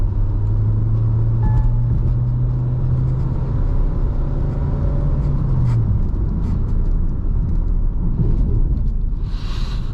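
A diesel car with a tuned ECU accelerates hard in third gear, held in manual mode until about 4,500 RPM, a loud continuous engine drone whose pitch climbs steadily, then dips near the end, with no voices.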